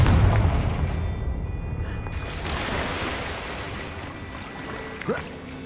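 Confringo blasting-spell explosion in the video game Hogwarts Legacy, a heavy booming blast with a rumbling roar that slowly fades into a long, wash-like decay, and a brief small crack near the end.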